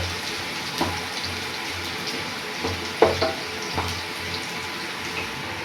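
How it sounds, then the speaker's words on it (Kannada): Curry leaves and dried chillies fry in a pan, giving a continuous watery sizzle with a few louder spattering bursts and occasional stirring clatter, close and unaccompanied by speech. "ಕರ್ಬೇವಿನ ಸೊಪ್ಪು ಸ್ವಲ್ಪ ಹಾಕಿ ಚೆನ್ನಾಗಿ ಫ್ರೈ ಮಾಡ್ಕೋಬೇಕು"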